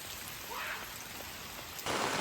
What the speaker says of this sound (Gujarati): આ જુઓ કોક આટલો ધોધમાર હેવી વરસાદ થઈ રહ્યો છે ભાઈ